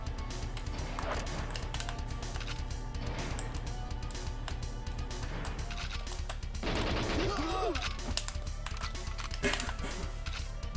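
Gunfire in the video game GoldenEye 007 crackles in scattered sharp bursts, some rapid, over a steady game backdrop.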